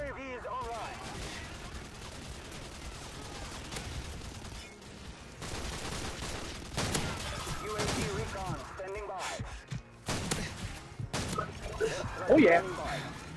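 Automated turret firing in a shooter video game, bursts of rapid gunfire and impacts scattered through the clip, moderately loud amid game effects, with a player talking over them.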